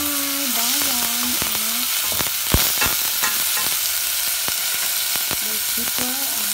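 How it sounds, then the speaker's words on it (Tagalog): Chicken sautéed with onion and garlic in a pan for mung bean stew makes a close, steady sizzle, punctuated by sharp scrapes and clicks of a utensil stirring the pan. "Ginisa ko ang chicken sa may sibuyas. Bombay, bawang"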